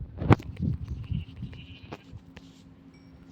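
Sheep in a Minecraft-style survival game bleat in one loud, close call near the start, followed by softer game rustles and faint clicks with no talking.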